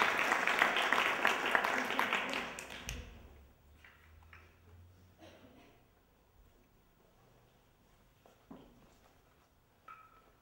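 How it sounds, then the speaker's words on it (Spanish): Applause from an audience at an international performance art event in Seville, loud dense clapping for about three seconds that stops abruptly, followed by quiet room sounds with faint scattered knocks. "Un aplauso para los sujeta ventanas."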